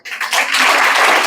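A workshop audience breaks into a short, dense burst of clapping, loud and close.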